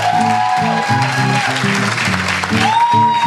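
Audience applause at a French-speaking ceremony, steady and loud throughout, mixed with strong tonal music or singing and voices over the clapping.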